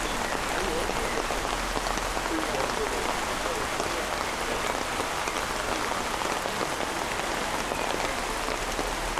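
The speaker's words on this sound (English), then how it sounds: "as the rain, if anything, gets a bit heavier" Rain falls steadily at an outdoor singles competition, a dense continuous hiss of drops on surfaces that stays level throughout, with no clear voices on top.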